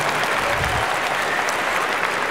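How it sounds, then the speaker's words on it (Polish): A theater audience at a Polish stand-up comedy show applauds in a dense, steady burst of clapping that fills the whole moment. "brawa dla Angeliki, ale pięknie."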